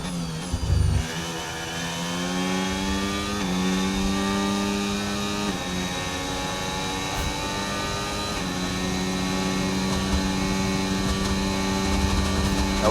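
A Formula 1 race car engine in the F1 25 game, on the Australian Grand Prix, screams continuously at high revs, dropping briefly on gear shifts then climbing again, loud and close throughout.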